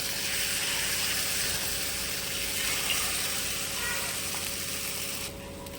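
Fasting-style appe batter sizzles in an appe pan, a close, even hiss that holds steady throughout and drops slightly near the end.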